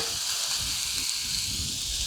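Three Frito burger patties frying in a skillet over medium-high heat, a soft, steady sizzle and hiss with faint popping, close but quiet.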